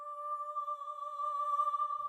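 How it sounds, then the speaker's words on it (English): A synthesized Classical Soprano choir preset from Omnisphere holds one steady vocal tone for about two seconds, clear and even, with bright harmonics and no other sounds. "So I use this preset in Omnisphere called Classical Soprano."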